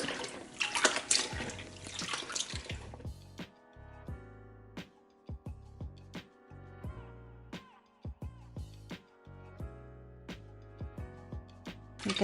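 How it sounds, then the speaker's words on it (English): Seitan dough made from flour is kneaded and squeezed in a bowl of water to rinse out starch, giving a few seconds of steady splashing followed by repeated wet squelches and soft drips, close by with no talking. "the more I wash it and the more starch comes off it, the strands, the gluten strands are starting to develop already"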